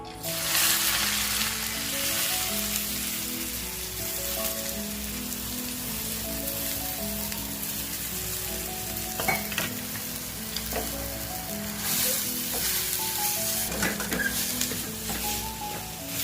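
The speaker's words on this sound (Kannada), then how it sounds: "ಸ್ವಲ್ಪ ಕೆಂಪುಗಾಗೋ ತನಕ ಬಾಡಿಸ್ಕೊಳ್ಳೋಣ." Chopped onions and tomatoes sauté in a pan, a continuous, rain-like sizzle of hot oil close by, with occasional clinks of a spoon and tonal melody in the background.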